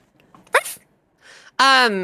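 A person mimics a dog bark at close range: a short sharp yelp, a soft breathy pause, then a longer, strongly voiced howling bark.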